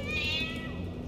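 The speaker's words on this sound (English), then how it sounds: "Can I pet this cat?" A cat meows once in the horror video game Into the Pit: a single drawn-out, close, fairly loud tonal meow that fades out, heard alone.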